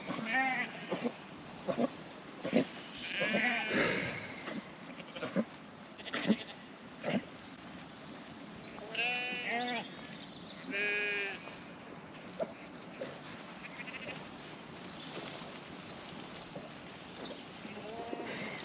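Sheep and lambs, including black lambs, bleat repeatedly at close range in a series of loud wavering calls spread across the scene, with quieter farmyard sounds between them.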